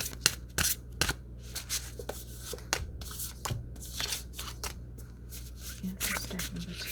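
Tarot cards are dealt onto stacks in quick, uneven bursts of crisp slaps and swishes at close range, with short pauses between them and no talking.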